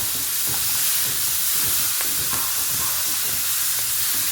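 Washed ragi (finger millet) dry-roasting in a pan gives a constant soft hiss broken by scattered small crackles and pops, with no talking.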